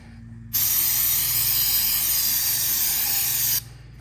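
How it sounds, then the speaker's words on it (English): Jegs brake cleaner sprays from an aerosol can in one steady, loud hiss lasting about three seconds, with a low hum underneath, while work goes on near the seals and wiring of a 1945 Farmall A tractor. "Does anybody else use Jegs brake cleaner?"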